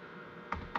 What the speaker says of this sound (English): we can go ahead and create leaf removal just by typing it in